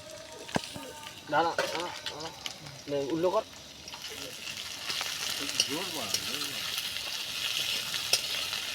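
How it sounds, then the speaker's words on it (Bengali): Potatoes sizzle and fry in hot oil with ginger and garlic, a steady close crackle with stirring, while a person talks over the first few seconds. "আলু ভাজা হয়ে গেছে একটু আদা রসুন দিয়ে নিচ্ছি"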